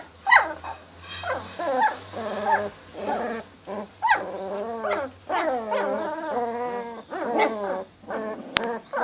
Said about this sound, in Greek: Γαβγίζετε ρε.